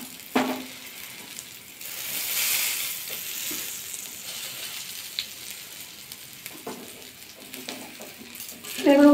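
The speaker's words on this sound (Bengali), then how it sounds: "এগুলো উল্টে পাল্টে ভাজা করে নিয়েছি" Eggplant slices fry in a pan for an egg-and-brinjal dish, giving a soft sizzle that swells in the middle, broken by occasional knocks of utensils and a clink near the end.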